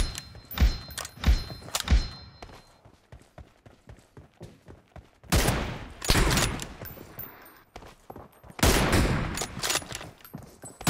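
Gunfire in the mobile battle-royale game PUBG Mobile: sharp single shots early on, then dense bursts of rapid automatic fire in two loud stretches, with thuds between them.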